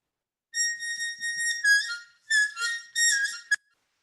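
A harmonica plays a very high, thin note on the 10th hole in short sustained bursts with brief gaps, clean and close with no talk.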